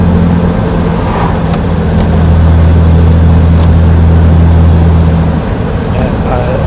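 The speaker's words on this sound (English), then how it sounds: "Just put it into overdrive and it's just relaxing to drive." A 1959 Austin Healey 3000 cruises in overdrive, a loud, steady low engine hum and road roar filling the cabin as people chat over it.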